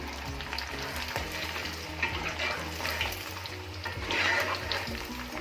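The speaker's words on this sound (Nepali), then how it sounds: "अब यो मिट बललाई चाहिँ हामी गोल्डन ब्राउन हुने बेलासम्म यसलाई फ्राई गर्छौँ" Meatballs fry in hot oil, giving a steady close sizzle and crackle with occasional stirring scrapes, with no voices.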